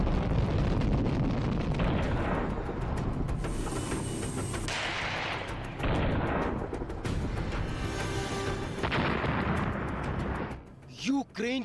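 Missile strikes in Ukraine erupt as a series of heavy blasts and rumbling bursts in news footage, loud and repeated with crackling debris, while a voice speaks over the din.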